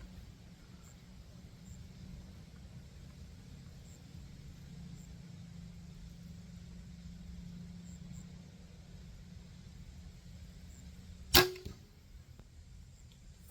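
A single crossbow shot fired from an elevated position: one sharp, close snap of the release with a brief twang, standing out against a steady low outdoor hum.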